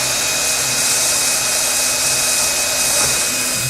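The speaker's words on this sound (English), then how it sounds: "I'm just going to hand drill it." A hand drill bores through a bridge for a Martin D-35 guitar, giving a loud, steady high whir close by that holds without pause.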